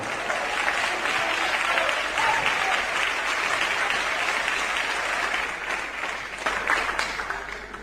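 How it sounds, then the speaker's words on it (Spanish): A church congregation gives sustained, full applause at a worship service, with thick, continuous clapping and crowd noise at an even level throughout. "denle un aplauso precioso al Señor"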